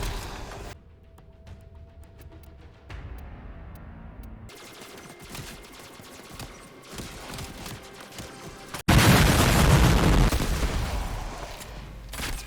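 A Kuva Brahma weapon in Warframe fires explosive rounds in dense bursts of bangs and rumbling blasts. The sound jumps to a much louder, sustained barrage near the end.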